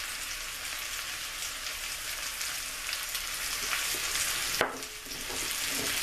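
Potatoes and onions fry in a pan for home fries, giving a dense, continuous hiss like steady rain, with one brief knock of the spatula near the end; close and alone, no voices.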